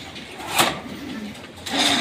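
Imported German Dalbar pigeons cooing nearby, two soft low coos separated by a sharp rustle, with faint room noise around them.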